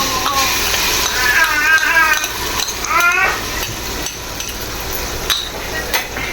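Ginger, garlic, green chili and mint paste sautéed for mutton pulao, a close sizzle with stirring scrapes and utensil clinks, while a voice chirps faintly in the background.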